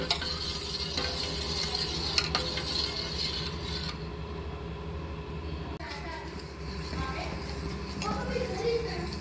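A spoon stirs an ice cream mixture steadily in a pot on the stove as it heats toward a boil, a soft continuous scraping and swishing against the pan under a low kitchen hum.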